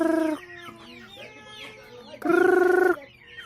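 Backyard chickens in a coop with chicks, two loud drawn-out squawking clucks separated by a stretch of softer chirping and murmuring, close to the microphone.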